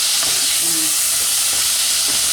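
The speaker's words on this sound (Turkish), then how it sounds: "et şimdi kavruluyor" Meat and onions sautéing in a pan, a steady broadband hiss and sizzle throughout, fairly close and even, with faint stirring clinks and no talk.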